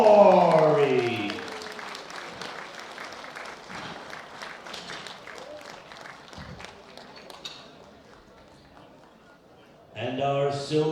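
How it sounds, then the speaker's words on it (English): Steady applause from the crowd at the 2016 World Bench Press Championships medal ceremony for the men's 105 kg Masters class; an announcer's voice opens and returns near the end over the clapping. "A big round of applause for Khalid Ghazal."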